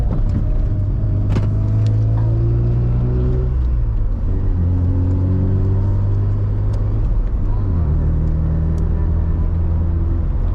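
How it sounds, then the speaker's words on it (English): A deep, rumbling rotary engine in a 1987 Mazda FC RX-7 idles and revs in steady swells, loud and close, with a rough low throb throughout. "Kind of sounds like a V8. Very deep, very rumbly."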